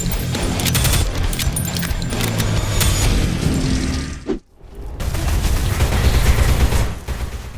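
Pistol, shotgun and rocket launcher fire rattle through a boomer shooter video game in a dense, loud barrage of rapid shots and booms. One brief silent break comes midway before the heavy firing resumes.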